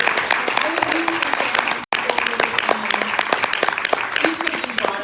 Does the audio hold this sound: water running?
no